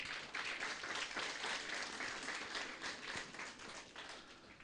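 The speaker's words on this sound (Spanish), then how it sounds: "vamos a dar fuertes aplausos" Sustained applause from a congregation at a Sunday church service, steady dense clapping throughout with no voices over it.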